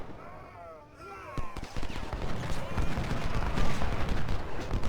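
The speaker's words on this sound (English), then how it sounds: "Look at that gun shooting." Rapid gunfire and artillery-like bursts from the American Civil War strategy game Ultimate General: Civil War, dense and continuous across most of the clip after a quieter opening with faint tonal sweeps.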